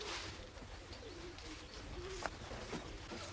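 Pigeons cooing softly inside a loft of about seventeen birds kept for racing, low murmuring coos and faint chirps over a steady background hiss, distant and quiet with no talk.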